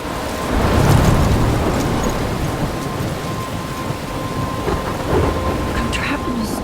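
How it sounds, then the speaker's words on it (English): Thunderstorm with rain in the video game Life Is Strange: a steady wash of heavy rain with low rumbling thunder swelling near the start and again later, loud and continuous with no talk. "I'm trapped in a storm?"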